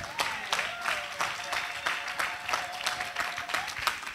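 A church congregation at a prayer meeting claps for Jesus: steady, sharp claps at a moderate level, with a sustained tone running underneath.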